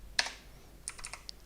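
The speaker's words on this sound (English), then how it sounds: "So let's just type in" Keystrokes on a computer keyboard, entered while spelling out Japanese words for a basic lesson: a crisp burst of clicks, a pause, then a quicker run of separate taps, close and clear with no talking.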